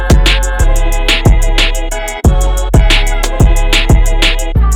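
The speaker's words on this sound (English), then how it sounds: "Chopped up the sample to the drum loop." A chopped sample rides over a drum loop on an MPC 2000 XL in a loud trap beat, with heavy kick and bass hits landing in a steady, repeating rhythm and bright hi-hat ticks over sustained melodic tones.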